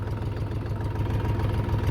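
A Scout TY 254 mini tractor, weighing 1450 kg, idles steadily right after starting, its low diesel chug loud and close throughout with no talk over it.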